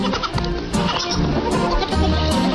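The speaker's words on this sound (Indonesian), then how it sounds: "Diawali dengan video yang memperlihatkan 4 anak kambing cebol yang tengah bermain-main." Four young Nigerian dwarf goat kids at play on a farm, bleating repeatedly and loudly at close range in a busy overlapping chorus.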